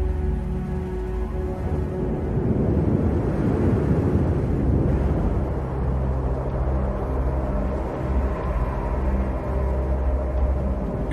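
Steady roaring wind gusts with a low rumbling buffet, loud and continuous throughout, swelling slightly in the middle.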